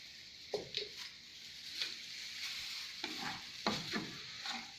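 Cumin and other spices frying in a pan with an oil sizzle, stirred a few times so scrapes and soft crackles rise over the steady hiss, close and fairly quiet.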